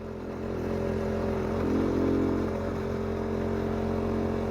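A motorcycle runs steadily along a rough road on a ride from Sialkot to Chiniot, its engine a close, continuous drone that swells slightly midway with no break.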